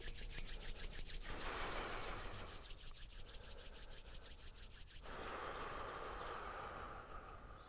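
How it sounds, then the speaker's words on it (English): Palms rubbing briskly together at close range, a steady dry friction with rhythmic back-and-forth strokes and brief pauses, alone with no talking. "rubbing the hands together."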